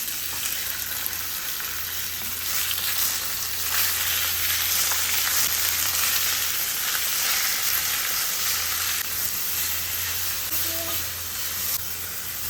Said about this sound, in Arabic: طبعا نقلب على الدجاج لحد ما خلاص يصير مستوي يعني